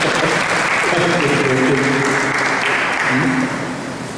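An audience at a night of a family reunion yagna claps steadily for about four seconds, a dense continuous wash of applause with a voice faintly audible beneath it, tapering slightly at the end.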